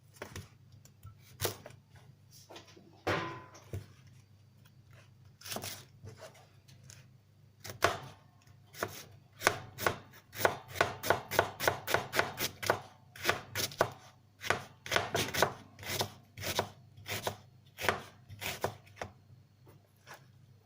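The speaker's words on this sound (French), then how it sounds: "Donc là on va faire des lamelles de fenouil." A knife slices fennel on a cutting board, sparse cuts at first, then quick, steady rhythmic chopping with crisp taps close to the microphone.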